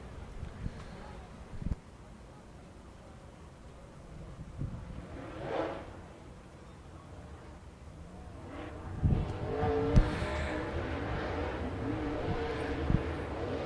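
Distant race car engines drone and swell as cars roll at a slow, steady pace around Cherokee Speedway, with faint background noise and occasional louder surges.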